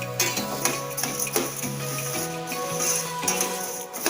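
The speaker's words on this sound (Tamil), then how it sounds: "தோல் உளுந்து வந்து ஒரு 200 கிராம் போட்டு இதையும் நல்லா வறுத்துக்கோங்க" Urad dal dry-roasting in a pan on a low-to-medium flame, a close rustling, scraping rattle of lentils being stirred against the metal with faint clinks, steady throughout with no speech.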